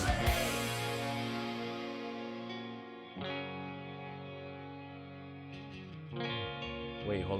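Bridge of a pop-punk rock song produced in Logic Pro X, with a sustained, heavily effected electric guitar chord ringing out, then new chords struck around three and six seconds, played back on its own at low level.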